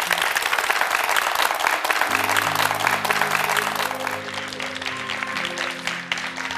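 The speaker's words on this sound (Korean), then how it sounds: "한신영 자매님께 다시 한번 큰 박수 부탁드립니다" A church audience breaks into hearty, dense applause that stays loud throughout. Sustained background music tones enter partway and continue under the clapping.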